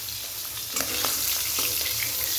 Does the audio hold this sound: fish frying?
yes